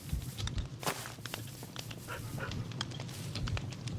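A Minecraft dog, a plain wolf-type pet with a black collar, is heard through a busy game soundscape of steady padding steps and soft panting, with scattered clicks and in-game noises layered throughout.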